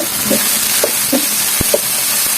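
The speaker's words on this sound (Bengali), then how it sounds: "দিয়ে ভেন্ডিটা ভেজে নেবো" Sliced okra fries in hot oil with salt and turmeric, a loud, steady sizzle close by, broken by a few soft stirring knocks from a utensil, with no voice.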